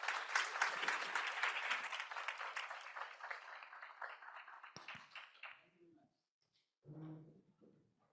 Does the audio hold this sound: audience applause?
yes